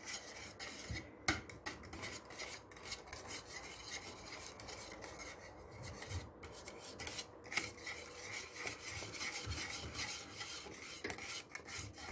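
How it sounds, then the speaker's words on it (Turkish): Dark chocolate and butter being stirred together in a pot for a Turkish supangle dessert, a steady scraping, rasping stir with faint clinks running continuously and fairly quietly, no voices. "100 gram bitter çikolata 100 gram da tereyağı ekleyip iyice karıştırıyoruz"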